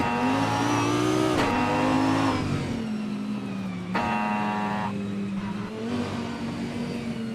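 A 2009 Mooncraft Shiden race car in a racing video game roars loud and close, the engine note climbing and dropping through several sharp shifts and revs, alone with no talk.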